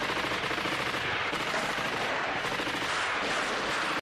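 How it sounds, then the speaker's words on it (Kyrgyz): Rifle gunfire from partisans, presented as a sound effect: dense, continuous rattling shots fill the whole stretch loud and close, with no talking. "мылтыктар менен патыратып аткылап эле өлтүрүп салышты"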